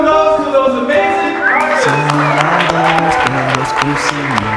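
An audience applauds and cheers for artists, bursts of clapping and crowd noise mixed under strong sustained tonal voices or music that dominates the sound.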